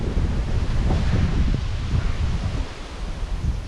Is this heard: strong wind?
yes